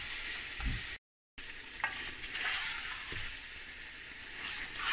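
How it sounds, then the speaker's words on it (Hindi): Chicken sautés in a pan for karahi with a soft, steady sizzle and hiss. A few stirring scrapes come through, and one brief gap of silence breaks it near the start. "इस तरह अब हम इसको चिकन को अच्छी तरह से इसको भूनेंगे इसमें"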